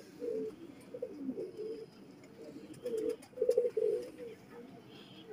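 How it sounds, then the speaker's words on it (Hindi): High-flying pigeons coo softly in short, throaty bursts that come and go, one cluster louder midway, with faint background noise and no talk. "हाई फ्लाइंग कबूतर है टोटल।"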